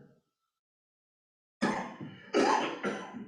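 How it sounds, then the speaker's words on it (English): After a brief sound and a pause, someone nearby coughs loudly three times in quick, harsh bursts. "The person that's coughing?"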